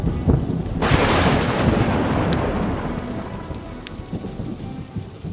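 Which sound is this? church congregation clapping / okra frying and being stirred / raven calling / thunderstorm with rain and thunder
thunderstorm with rain and thunder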